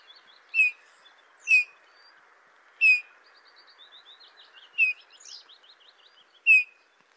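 Bullfinch song: soft, downslurred piping whistles repeated five times at a steady, unhurried pace, with faint twittering between them. Clear and fairly close against a quiet background.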